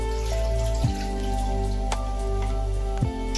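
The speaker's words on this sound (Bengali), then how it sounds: "আমি এখন এই থালাতে একটু জল নিয়ে নেব।" Water trickles and drips into a plate ahead of soaking papad, a soft, faint pattering over a steady background hum with no talking.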